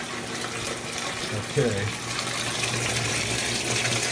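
Warm water runs steadily into a Kenmore stacked washer during a switch repair, a continuous rushing fill with a faint low hum, as someone speaks briefly over it.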